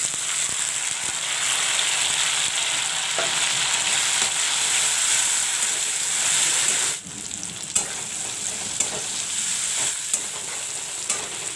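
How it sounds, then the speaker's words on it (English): Onions, garlic, green chili and cumin with chopped tomatoes fry in a pan for a white pumpkin dish, giving a steady, close, loud sizzle with occasional stirring clicks and a brief dip midway. "Now I will fry the onions along with the garlic and the green chili and jeera."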